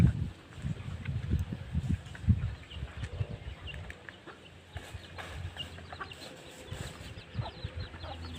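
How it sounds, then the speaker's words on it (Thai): Chickens cluck near and softly at a Thai rural home, giving scattered short clucks and calls over a quiet background, with no talking. "ไปดูไก่ดีกว่า"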